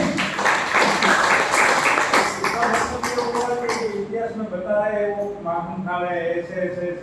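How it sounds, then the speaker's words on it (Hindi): An audience claps together at a spoken gathering, a loud burst of dense applause that thins out and fades, followed by a speaking voice. "कृष्ण जी के नाम की तालियां तो बजाइए"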